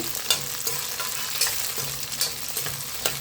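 Garlic fries in oil for okra tamarind curry, a steady close sizzle punctuated by a few soft scrapes and taps as it is stirred around the pan.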